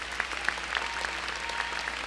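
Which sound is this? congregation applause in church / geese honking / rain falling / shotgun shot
congregation applause in church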